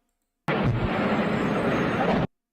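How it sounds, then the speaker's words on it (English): An explosion erupts with a sudden loud, broadband blast that holds as a dense roar for nearly two seconds before cutting off abruptly into silence. "There's the explosion."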